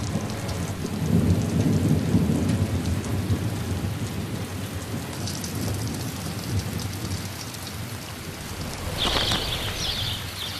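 Heavy rain pours steadily over the Inner Hebrides of Scotland while low thunder rumbles through the downpour, and a faint bird chirps briefly near the end.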